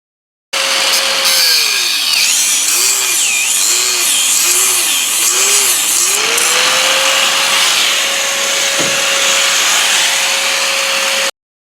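A power tool cuts away the sway bar attachment point on an LS-swapped Mazda B2200 truck. It gives a loud, continuous grinding whine whose pitch dips rhythmically as the blade bites, with no voices.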